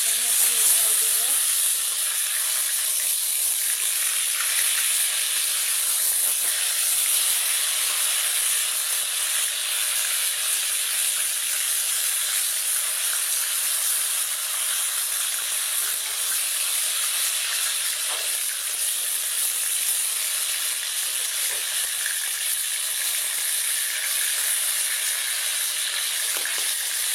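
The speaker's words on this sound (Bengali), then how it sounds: "এদিকে আমার মাছ ভাজা হয়ে গেছে" Fish fries in hot oil in a pan, a steady, loud sizzle and hiss that runs unbroken with faint occasional clinks and stirring, close up and without talk.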